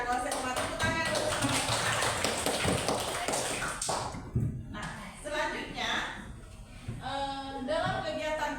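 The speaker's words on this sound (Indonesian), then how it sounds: "Tepuk tangan dulu." A group claps hands together during an indoor session on identifying personal potential, a dense, fast burst lasting about four seconds before it breaks off and voices talk over quieter scattered sounds.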